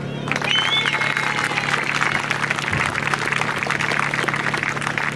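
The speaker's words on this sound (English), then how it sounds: "keep the hands clapping" People at a little league closing ceremony clap continuously for several seconds, a brisk outdoor patter of many hands with a steady hum underneath.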